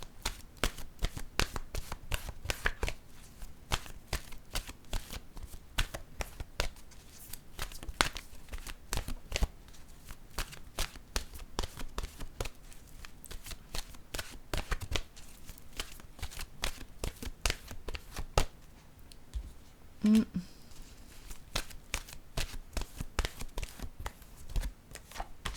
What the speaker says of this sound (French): je vais piger une autre carte de mon oracle de l'âme intuitive